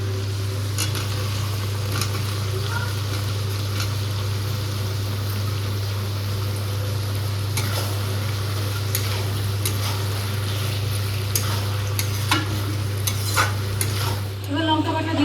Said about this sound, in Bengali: এবার আলু ভাজাগুলো দিয়ে দেবো।